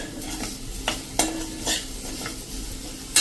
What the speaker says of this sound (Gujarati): આપણે આ રીતે 1 મિનિટ તેલમાં એને સાંતળી લેશું મસાલો